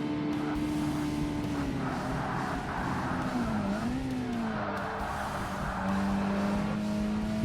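Mazda Miata race cars in the Forza Motorsport (2005) Professional Miata Sport Cup on Xbox, engines droning steadily with pitch rising and dipping through gear changes, occasional tire squeal, loud and continuous.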